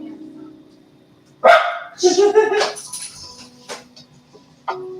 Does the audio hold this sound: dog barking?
yes